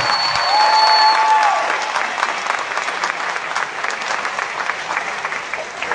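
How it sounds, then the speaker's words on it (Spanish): Audience applause fills a live show, steady dense clapping from a crowd throughout, fairly loud and continuous. "Aplauso para Chequera y para Facundo."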